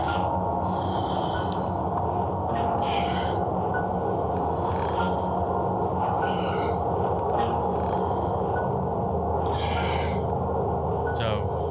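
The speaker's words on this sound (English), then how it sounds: "He's doing his breathing technique right there." Forceful Wim Hof method breathing, a run of strong rhythmic breaths and snorts recurring about every one to two seconds, close and loud over a dense, steady background rumble.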